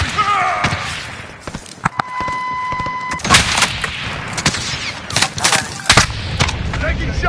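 Gunfire in Call of Duty: Modern Warfare multiplayer: scattered loud shots and heavy thumping blasts, some near and some farther off, over busy game noise, with a steady electronic tone partway through and voices talking at times.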